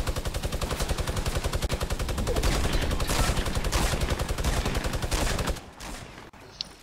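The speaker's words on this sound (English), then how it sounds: "You got a fucking minigun" A minigun fires in a video game as a long, rapid, loud mechanical burst of shots, then cuts off and leaves a quieter tail with one faint click.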